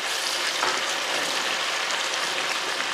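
Chicken pieces being stirred and broken apart in a hot pan, a steady dense sizzle and frying hiss with faint scraping, constant and close with no voices.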